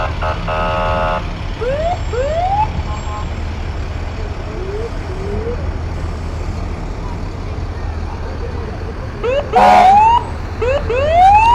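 A Jackson Fire Department fire engine rolls through a Christmas parade, its siren wailing in repeated rising sweeps that fade mid-clip and return louder near the end over steady crowd and engine rumble, with a brief announcer-style voice in the mix.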